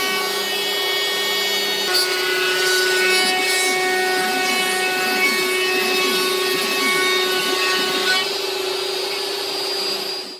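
A CNC router cuts wood for a tray, a steady loud whine with a constant motor hum and shifting rasp of the bit through timber, running continuously without talk.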